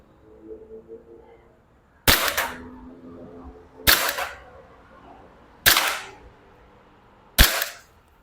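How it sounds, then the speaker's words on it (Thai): Four sharp, loud BB pistol shots from a Glock 23 Gen4 replica, fired at a 10 cm target from 10 metres, spaced roughly two seconds apart with a quiet outdoor background between them. "มาทดสอบยิงเป้า10เซนระยะ10เมตรครับดูว่าผมจะยิงโดนไหมนะครับ"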